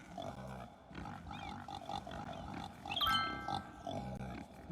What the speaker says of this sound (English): What we got here? Pigs!